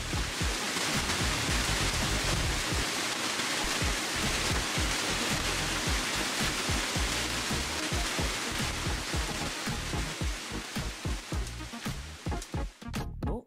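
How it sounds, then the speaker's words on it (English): Water pours steadily over a man-made stone garden waterfall, a constant close splashing rush that turns choppier and more broken toward the end. "Flowing water makes you feel good and relaxed. What a wonderful sound."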